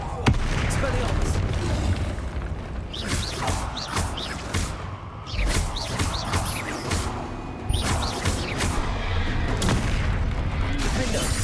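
Confringo and Bombarda spells in Hogwarts Legacy go off in repeated booming blasts and crashes during a spell-casting fight, with bursts of magic effects and game sound throughout.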